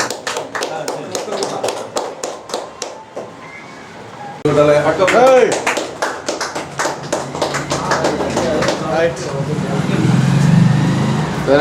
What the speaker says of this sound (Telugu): చప్పట్లు మానేసినారా? చప్పట్లు